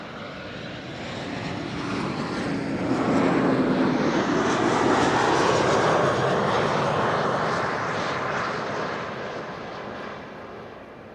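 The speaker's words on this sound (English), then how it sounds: "That's an Embraer 190 arriving from Geneva." A KLM Embraer 190 jet arriving from Geneva flies past at Schiphol, its engine roar building from a distance, peaking loud overhead in the middle, then fading away.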